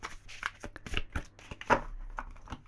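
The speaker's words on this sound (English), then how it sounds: "I'm going to do a shuffle through just so that you can see I've not cheated on anything." A deck of tarot cards is shuffled by hand in a quick run of crisp, irregular riffles and slaps, close and fairly quiet, with no speech.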